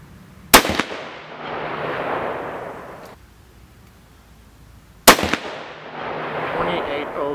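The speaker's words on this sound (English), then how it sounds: "this first shot's going to be a cold bore shot" Two sharp, loud gunshots from a Mossberg Patriot rifle in 6.5 Creedmoor firing Hornady 120 gr ELD-M loads, the first from a cold bore on a 35-degree day, each crack followed by a rolling outdoor echo and a pause between.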